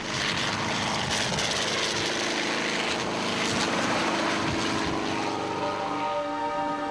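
A helicopter flies over crop circles in a field, giving a steady, loud rotor and engine drone that holds throughout without speech.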